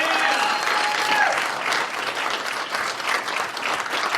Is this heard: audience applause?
yes